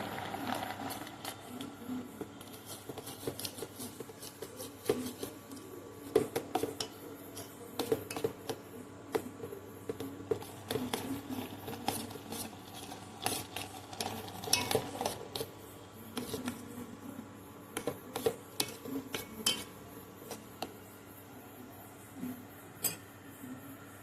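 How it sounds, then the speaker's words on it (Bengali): Payesh thickened with milk powder and cardamom being stirred continuously, a spoon clinking and scraping against the pot in an irregular steady rhythm, close but fairly quiet, with no talking. "এবার এটাকে আমি কন্টিনিউ নেড়ে নেব"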